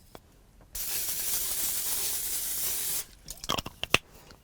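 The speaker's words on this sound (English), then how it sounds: "let's just spray a little bit of oil in there" Cooking oil sprayed into a crock pot in a single steady hiss lasting a couple of seconds, close and fairly loud, followed by a few soft clicks and knocks of handling.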